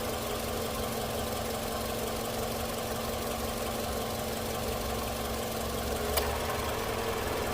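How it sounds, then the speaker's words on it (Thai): A 2005 Toyota Camry 2.0 E with a 2.0-litre VVT-i engine idles steadily under an open hood, a smooth, even hum heard close up, alone and without stumbling, with one brief click near the end. "เสียงเครื่องยนต์เดินเบาปกติมากครับ"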